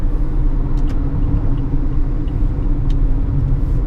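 A 2016 Toyota RAV4 Hybrid AWD XLE cruises down the road on adaptive radar cruise control at about 65 mph, giving a steady, continuous low road and tire rumble from inside the cabin with no talking.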